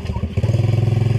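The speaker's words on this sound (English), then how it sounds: "They came blasting here on their little quad." Small quad bike ridden by kids, its engine close and loud with a fast, steady throbbing that picks up briefly partway through.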